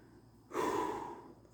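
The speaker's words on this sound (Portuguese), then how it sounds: "eu tô respirando aqui para poder falar" One deep, audible breath is drawn in close to the microphone, a breathy rush that starts abruptly after a quiet pause and tapers off over about a second.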